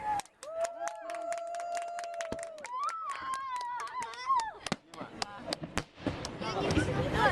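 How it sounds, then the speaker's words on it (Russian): Fireworks explode over the water in Tokyo, with a run of sharp cracks and bangs at close to middle distance, heard under people talking excitedly. "Они взрываются, Аня"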